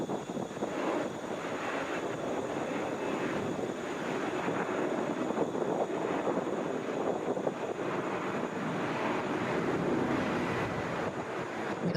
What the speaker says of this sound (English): Heading out, that's Delta Flight 2377, headed for Cleveland, Airbus A321.